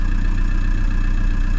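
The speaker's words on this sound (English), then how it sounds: "See, engine is on." A 2004 VW Polo 1.9 TDI PD100 diesel engine idles close by with the bonnet open, a steady, loud low rumble with an even clattering pulse and no voices.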